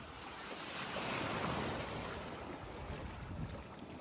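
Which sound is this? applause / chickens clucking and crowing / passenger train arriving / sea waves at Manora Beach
sea waves at Manora Beach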